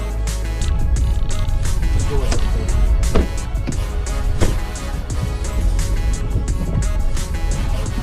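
A Mercedes engine runs steadily just after starting up after four months unused, a loud close idle rumble with a few clunks and knocks.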